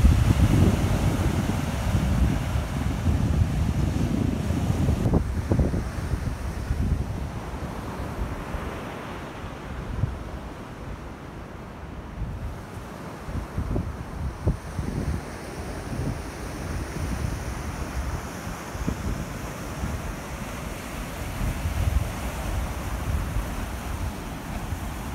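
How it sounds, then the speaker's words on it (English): Steady wind rumbling against the microphone over the broad, rolling wash of rough North Sea waves at Thornwick Bay near Flamborough Head, continuous and loud with no talking. "still a bit windy. The sea's still a bit angry."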